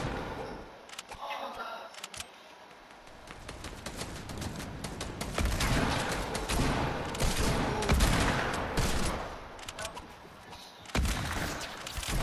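Sustained gunfire crackles in a busy Fortnite fight, dense rattling shots at moderate distance under a steady wash of game noise, with a voice faintly present.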